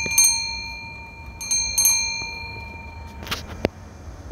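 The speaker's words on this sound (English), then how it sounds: "Got a little bell here." A small bell on a Wildfire BBQ grill, a pedal-powered vehicle, rings with two bright, clear dings that ring out and fade, followed by softer clanks and a sharp tap.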